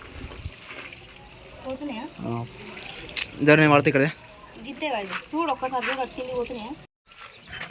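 A hose pipe runs water over newly built brick walls on a first-floor construction site, a steady hiss and splash beneath loud, close conversation that nearly covers it.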